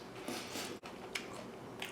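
Close, wet chewing and crunching of a kale, cabbage, olive, artichoke and cucumber salad with balsamic dressing, with a few sharper bites in a quiet room and no speech.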